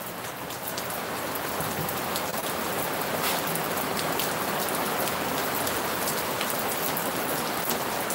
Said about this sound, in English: It is so much rain.